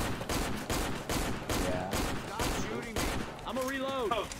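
Rapid gunshots from the video game Left 4 Dead 2, repeated loud bursts in a regular rhythm with a voice talking over the firing near the end.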